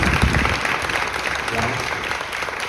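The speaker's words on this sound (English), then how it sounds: "can you give our panel a round of applause?" Outdoor audience at a brewery event applauding a marketing panel, a dense continuous wash of many clapping hands with faint crowd murmur, steady and close throughout.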